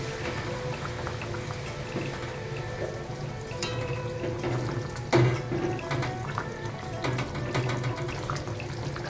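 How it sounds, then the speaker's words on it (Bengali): Water is added to a pan of Bengali dahi katla (rohu fish curry) gravy, a steady running, splashing pour over the sizzle of the cooking pan, close and continuous with no talk. "এবার যতটা গ্রেভি রাখবো সেই অনুযায়ী জল দিয়ে দেব।"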